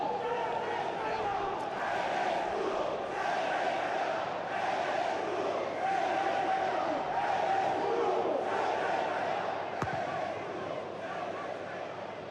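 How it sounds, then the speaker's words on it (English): A football stadium crowd at Riazor during a Deportivo versus Elche match roars and chants steadily in the distance, a broad sustained wash of voices. "Listening to the crowd, listening to what Riazor is saying."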